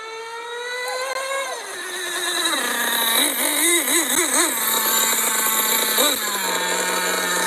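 A Hobao Hyper VT nitro RC car with a 2-speed transmission runs its small engine at high pitch for about seven seconds, revving up and down in rapid buzzing wavers and dropping lower toward the end, loud and close.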